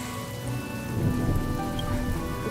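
Steady heavy rain falls in a Honkai: Star Rail game cutscene, a dense continuous patter with a low rumble beneath, no voices.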